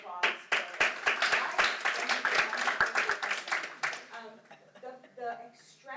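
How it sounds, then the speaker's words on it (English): A round of applause from a conference audience at the Freidenrich Conference Center, with brisk, sharp claps for about four seconds before they fade and voices begin talking. "let's just have a round of applause for"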